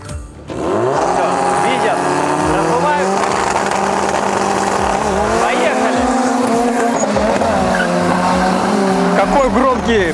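Several cars launch side by side at a drag race, tires squealing and engines roaring loud and close in long sweeping tones, with a voice talking over the din throughout.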